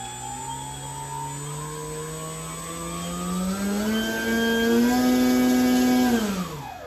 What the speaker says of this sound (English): So that's the sound a brand new blade makes. It's super crisp, super smooth. No humming, no wobbling, nothing like that.